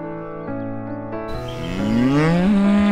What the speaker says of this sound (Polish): Krowy głośno oznajmiają swoje przybycie.